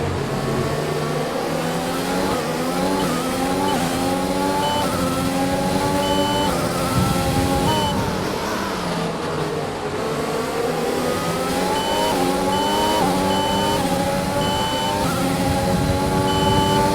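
Formula 1 race car engine from the F1 2020 video game, a loud, continuous high-pitched whine whose revs climb and fall through repeated gear changes, with no talk over it.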